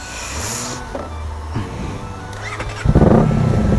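A Honda CBR motorcycle being ridden on a road in Japan, its engine droning steadily and then rising into a loud, rough revving burst near the end, with some wind noise.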